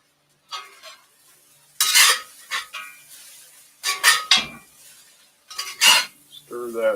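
Intermittent scraping and clinking of a utensil stirring fried rice in a pan just pulled off the direct heat, in short bursts separated by near silence, close and fairly loud.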